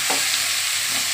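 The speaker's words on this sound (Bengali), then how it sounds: "তেলের মধ্যে নুন আর হলুদ দিয়ে দিয়েছি, ব্যাস এটা তো ভাজা হয়ে যাবে" Bhetki fish frying in hot oil seasoned with salt and turmeric, a steady close sizzle running the full length with a brief stir or clatter near the start, no voices.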